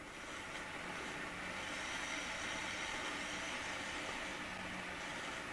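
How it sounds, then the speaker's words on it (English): Steady, even whirring of the speed-controlled roof fans on an Accurascale BR class 31 model locomotive, a continuous soft hum with no breaks, heard alone. "And the fans come on. It's speed controlled, it doesn't just race with the speed of the motor."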